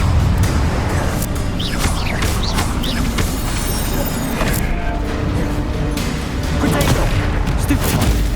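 Confringo and Incendio spells blasting in the Hogwarts Legacy video game, a dense, loud stretch of crackling bangs, fiery bursts and rumbling impacts under a continuous roar of game combat noise.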